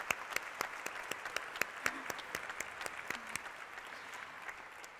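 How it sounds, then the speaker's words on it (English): Audience applause for conference speakers at an event on staying relevant in a changing world: fairly quiet, thin clapping with distinct individual claps standing out, steady throughout without voices. "I would like to give one more complete round of applause for all of our speakers"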